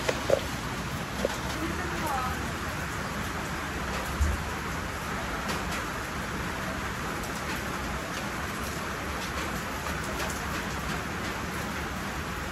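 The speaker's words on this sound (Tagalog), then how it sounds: "Ligo kami sa ulan." Steady rain hisses across the whole clip, with a few louder drips and taps standing out now and then. There is no speech.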